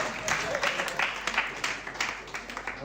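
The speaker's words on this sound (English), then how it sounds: "Please clap. I know you're not good. Just clap." An audience at a parents' and caregivers' workshop claps, a short burst of scattered hand claps with a voice speaking over it.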